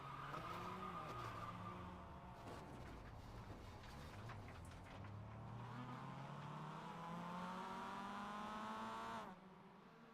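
Race car in the iRacing game at Daytona during a Mazda series race skidding on a drying track, with sustained engine drone, shifting pitch and tire scrubbing, loud and continuous, no talking.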